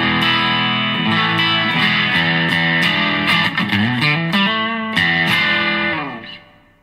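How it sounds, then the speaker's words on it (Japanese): Stratocaster rear pickup driven through a Zoom MS-200D multi-stomp on its Desert Dry overdrive setting, strumming crunchy chords with bends for several seconds before the last chord fades out, loud and close with no voices. "まずはデザートドライ、"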